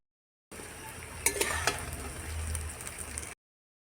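Lentil and egg dhoka frying in hot oil, a close steady sizzle with sharp spits and clinks from a spatula stirring the pieces in the pan.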